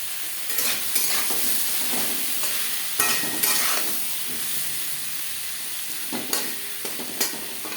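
Potatoes fry with salt and turmeric in a pan for a Bengali fish-head muri ghonto, making a steady hissing sizzle broken by irregular clinks and scrapes of a stirring spoon.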